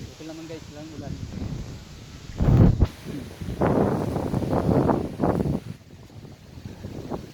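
Strong wind buffets the microphone outdoors in gusty bursts, with a person talking over the blustery noise.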